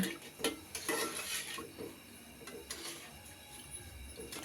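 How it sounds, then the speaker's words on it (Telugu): A spoon scrapes and knocks around inside a metal pot of sugar and water in uneven strokes, close by, with a faint background hiss and no talking. "ఒకసారి కలిపే కలుపుకుందామండి"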